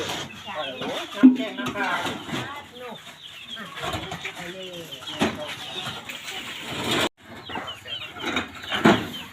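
Chickens clucking close by on a Thai village premises, repeated short clucks and calls mixed with people talking throughout.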